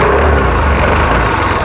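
Loud, close engine note from an Ariic Gobi 250 adventure scooter revving with traction control on, a dense continuous roar that stays fairly even throughout.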